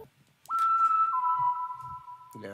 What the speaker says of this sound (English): Some Trent Reznor like whistles.